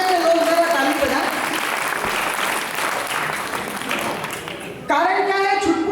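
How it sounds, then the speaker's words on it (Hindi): A large audience at a poetry gathering applauds in a sustained wash of clapping, with a voice speaking over it at the start and again near the end. "पीछे बैठे लोग जरा ताली बजाएं"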